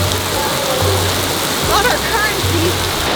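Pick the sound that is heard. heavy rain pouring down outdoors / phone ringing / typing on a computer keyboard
heavy rain pouring down outdoors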